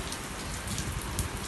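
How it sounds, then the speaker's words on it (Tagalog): Heavy rain pours down in a storm in Doha, Qatar, a dense, steady hiss of drops drumming on surfaces, loud and close with no voices. "It's raining."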